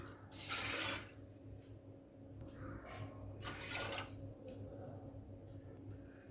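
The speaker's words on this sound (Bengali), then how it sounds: "এবার কুকারে দিয়ে দিচ্ছি দিয়ে দিচ্ছি দু বাটি জল" Two bowls of water pour into a pressure cooker holding washed dal, two splashing gushes close by with quieter trickles between.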